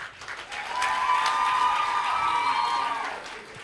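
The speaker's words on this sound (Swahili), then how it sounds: "Makofi kwa Browns." A crowd at the commissioning of a school dormitory and multipurpose hall breaks into warm applause with some cheering, swelling quickly and holding steady for a few seconds before tapering off.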